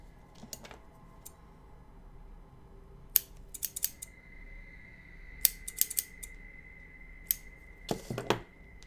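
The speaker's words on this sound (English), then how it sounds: "I'm gonna get a pair of scissors that cut this real tight." Scissors snipping in a quiet room, a scattered run of crisp metallic clicks and short cutting bursts, some in quick clusters, with faint handling sounds between and no talking.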